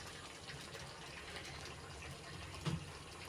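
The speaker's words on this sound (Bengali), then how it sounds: "কড়ার মধ্যে আমি একটু তেল দিয়ে দিচ্ছি" Mustard oil poured into a wok set on a gas stove, a short steady liquid trickle over a faint background hum, with a small splash near the end.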